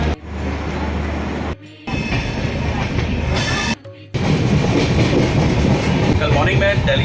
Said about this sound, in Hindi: लेकिन सच कहूँ तो ये ट्रेन लाजवाब है